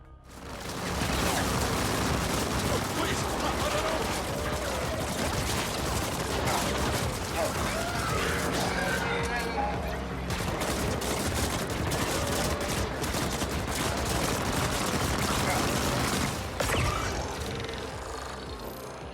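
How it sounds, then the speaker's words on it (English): Gunfire from twin-stick shooting in the action video game The Ascent, dense rattling bursts and blasts running continuously over game music, with a voice talking over the top. "The Ascent's gameplay is all centered around twin-stick shooting."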